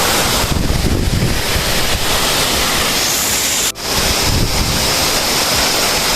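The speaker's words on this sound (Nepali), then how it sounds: "यस्तो छ हाम्रो बुदर झरना," Budar waterfall in Doti district, Nepal, its cold water pouring heavily: a steady, loud broadband roar of rushing water fills the whole stretch with a brief dip near the middle, no voices.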